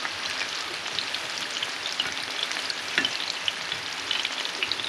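Breaded shrimp deep-fry in a pan of hot oil, giving a dense, continuous crackling sizzle with scattered sharper pops, close and steady with no talk.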